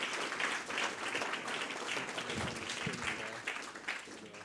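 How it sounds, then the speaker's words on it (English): Audience applause at the 2023 UCL Sustainability Awards Ceremony, a dense, steady wash of many hands clapping together that fills the room and holds without a break. "so a quick round of applause for Alice"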